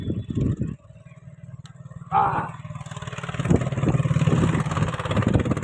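A tractor engine runs at a low, steady idle, with a short burst of louder noise partway through. The engine chugs on close by, and a voice briefly speaks near the start.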